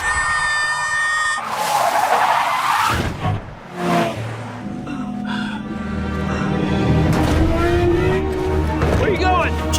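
A car chase with tires skidding: a loud screeching skid and bursts of engine roar from a speeding car, with voices talking over the action.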